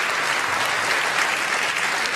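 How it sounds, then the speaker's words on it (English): Steady, even applause from a snooker crowd at the UK Championship 2023 final, filling the arena at moderate level with no speech on top. "Applause from the crowd"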